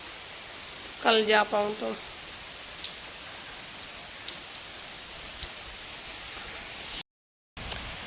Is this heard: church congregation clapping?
no